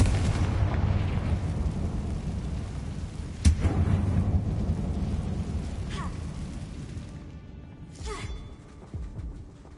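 A blasting-spell explosion in the Hogwarts Legacy video game, set in a closed, tomb-like mine, lands as one sharp boom amid rumbling in-game noise, followed by a few fainter bursts.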